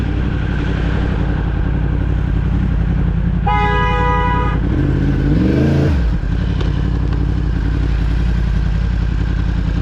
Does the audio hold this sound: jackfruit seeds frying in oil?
no